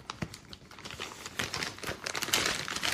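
Plastic packaging around a block of soil for a plant maze growing kit being unwrapped, a quiet run of crinkling and crackling rustles close by.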